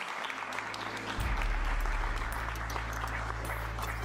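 An audience at a film festival awards ceremony applauds steadily, with dense clapping that swells after a low hum kicks in and continues evenly throughout.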